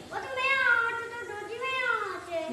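A cat meows indoors in two drawn-out, wavering calls that rise and fall over about two and a half seconds, close and fairly loud, with no other sound around it.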